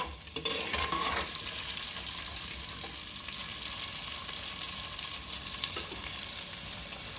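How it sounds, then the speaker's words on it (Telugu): Onions, green chillies, cumin and mustard seeds fry in hot oil in a clay pot, a continuous close sizzle with occasional stirring scrapes and no voices. "ఉల్లిపాయలు, పచ్చిమిర్చి, జీలకర్ర, ఆవాలు వేసి ఇవి కొంచెం బాగా ఫ్రై కావాలండి."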